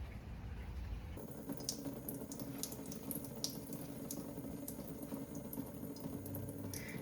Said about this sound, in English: you want to rinse them gently under water to clean off any little critters